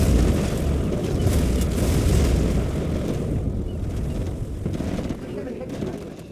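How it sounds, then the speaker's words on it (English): Scud Storm missile strike in a real-time strategy war game: a heavy, rumbling explosion surge that swells early and slowly decays over several seconds, loud and dense in the low end. "General, a Scudstorm has been launched."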